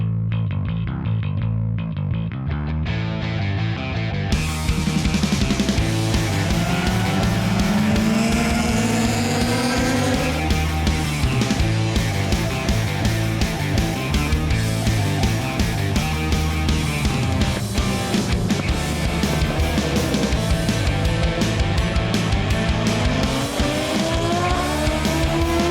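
A Ducati motorcycle laps a race track, its engine loud and continuous with rising and falling pitch sweeps as it accelerates and shifts, occasional tire noise, close and dominant throughout with no talking.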